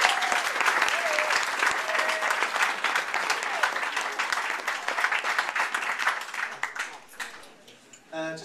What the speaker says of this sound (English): So let's give Judy a round of applause.